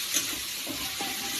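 Chicken masala sautéing in a kadhai while dal is being cooked, a steady close hiss and sizzle of frying with faint stirring scrapes, with no talking.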